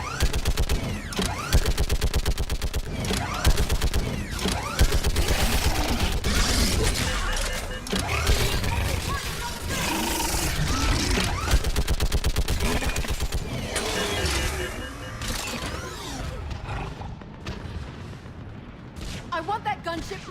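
Sustained rapid gunfire fills a firefight in Mass Effect 3, dense bursts of automatic weapons cracking continuously near and loud, with booms and mechanical clatter mixed in and voices shouting over the shooting.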